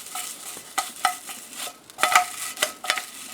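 Pork roll slices and an egg sizzle in a frying pan for a breakfast sandwich, with a spatula scraping and clinking several times as they are flipped. The sounds are close and moderately loud, and no one talks.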